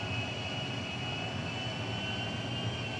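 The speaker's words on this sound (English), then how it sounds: "watch out for other planes." A steady airplane engine drones in a video game, a constant unbroken hum that stays level in loudness throughout with no speech over it.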